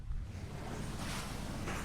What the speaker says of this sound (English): why is that gotta be so windy though?